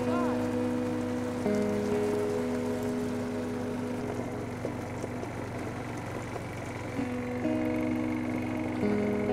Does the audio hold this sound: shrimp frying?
no